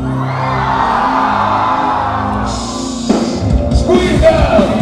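A crowd at a concert in Moscow screams and whoops, first over steady band music, then rising into a louder, rougher burst of yelling near the end.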